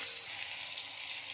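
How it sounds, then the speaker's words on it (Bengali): Potatoes sizzle steadily in hot mustard oil with nigella seeds, a soft, even hiss of frying close by with no talking. "আমি এবারে আলুগুলো দিয়ে দেবো, একটু আলুগুলো লাল লাল করে আমি ভেজে নেব।"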